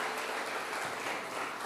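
Congregation at a church service applauding together, a dense, steady wash of clapping filling the space without a break, moderately loud throughout.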